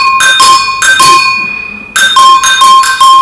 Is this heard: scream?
no